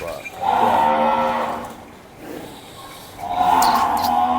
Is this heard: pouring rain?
no